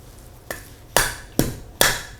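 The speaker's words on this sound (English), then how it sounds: "Before we break the coconut, we have to remove this husk." Coconut husk struck and pried off by hand at home, four sharp cracking hits at a steady pace, each ending in a short tearing crackle of fibre, close and fairly loud, with no voices.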